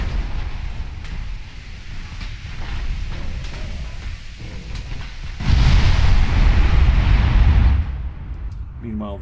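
Heavy 20-inch naval guns firing in Ultimate Admiral Dreadnoughts, a battleship engagement: a deep, rumbling roar of broadband noise that swells loudly for a couple of seconds over steady battle ambience, then fades.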